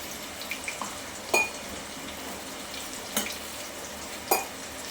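Ginger, garlic, green chili and coriander paste sautés in a pan with a soft, steady sizzle. A few sharp scrapes and clinks of stirring cut through at intervals.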